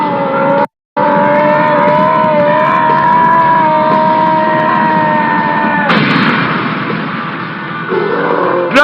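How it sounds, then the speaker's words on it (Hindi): An anime fire attack effect in a Pokémon battle: a loud, sustained roaring blast with layered tonal whooshing, briefly cut by a split-second gap near the start and surging with a noisier burst toward the end. "ग्लाइस्कोर के फायर बैंक ने ड्रैपियन पर सीधा निशाना साधा और उसकी जबरदस्त शक्ति की वजह से ड्रैपियन आग के लपेटे में आ गया"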